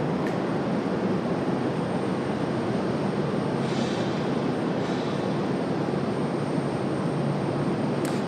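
A FedEx cargo plane departs Raleigh-Durham airport in the evening, a continuous broad roar of jet engines heard from a distance, steady throughout without voices.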